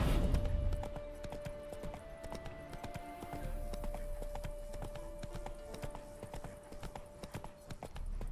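Steady clip-clop of horse hooves trotting at a regular pace in The Witcher 3: Hearts of Stone, fairly close, with a faint sustained tone and soft ambient noise behind.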